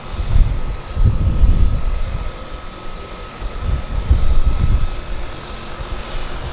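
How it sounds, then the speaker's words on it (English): A Turbo Beaver floatplane approaching Vancouver Harbour, its low propeller-engine drone rising and falling in two broad swells over steady background hum, moderately loud with no talk. "we've got another aircraft on approach"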